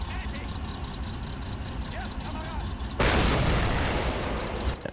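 Tank gun shot fired at an Su-122 in the World War II strategy game Men of War: Assault Squad 2, a sudden loud blast cutting through a rumbling battlefield of engines and distant fire, its roar lingering for seconds.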